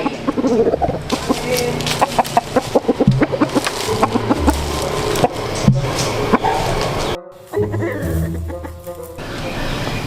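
Chickens cluck busily in a noisy, close flock, a steady stream of short clucks and squawks with some clatter in the background.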